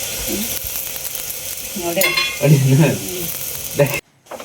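Oil sizzling on a hot griddle pan while holige flatbread is cooked in a North Karnataka Bagalkot kitchen, a steady close hiss with some stirring and pan scraping, then a sudden cut near the end.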